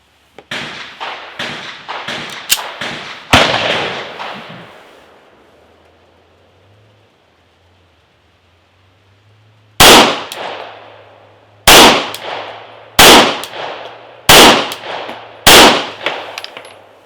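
Rex Zero 1 TC pistol firing in two groups of rapid shots, loud sharp cracks with echoing tails, a first cluster of about six quick shots, a pause, then five more spaced shots, with no talking.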